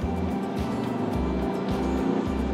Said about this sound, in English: It does become loud with a typical 3-pot noise